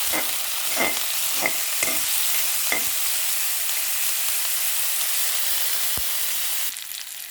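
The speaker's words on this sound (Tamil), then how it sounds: "வெட்டி வைத்த வெங்காயத்தை சேர்த்தல் மிளகாய் சேர்த்தல் கருவேப்பிலை நன்றாக வதங்க விடுதல்" Chopped onion, chilies and curry leaves sautéing in hot oil make a loud, continuous sizzle. Several stirring strokes sound over it in the first few seconds, and the hiss drops off sharply near the end.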